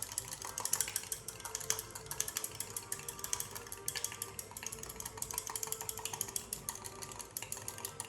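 Body butter being stirred and mixed by hand, giving a steady, busy run of quick clicking and scraping taps that continues without a break, close up and with no voices.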